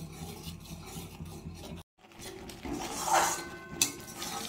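Palm pulp is stirred into a chhana mixture in a pan, heard as close rasping scrapes of a utensil against the pan. A brief pause falls midway, then the scraping returns more strongly.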